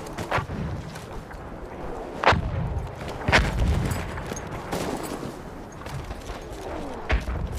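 Artillery barrage on the Cape Helles map in a Battlefield 1 Rush match: repeated heavy booming impacts land every second or two, with sharp crashes near 2.3 and 3.4 seconds over continuous battlefield rumble and scattered gunfire.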